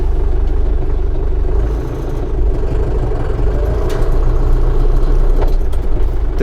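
A YTO 454 tractor moving forward in second gear, low range: a loud, steady, rumbling diesel engine drone with no pauses, heard close and alone.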